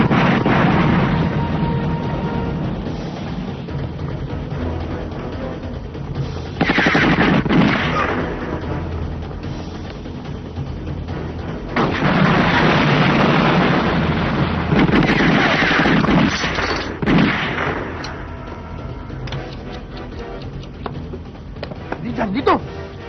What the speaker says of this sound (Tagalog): Mga granada!